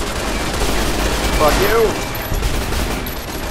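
Automated turrets firing during a Fallout: New Vegas game, a steady dense rattle of gunfire that runs throughout, loud and close, with a voice briefly speaking over it.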